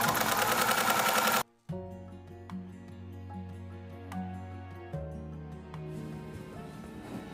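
A sewing machine runs in short bursts while stitching a seam in fabric, its rapid mechanical whirr steady and close, pausing briefly and restarting alone without talk.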